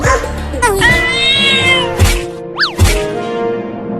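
A cat meows in short, loud, close calls, several rising and falling cries with bumps and scuffles in between, in a domestic comedy scene.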